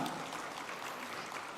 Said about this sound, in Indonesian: Tepuk tangan untuk Bang Idrus Marham